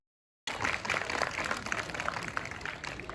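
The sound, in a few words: audience clapping hands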